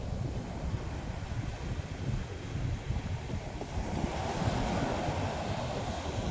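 Sea waves washing onto a shore, a steady broadband surf roar with rising swells and gusty wind buffeting the microphone throughout, fairly close and continuous with no voices.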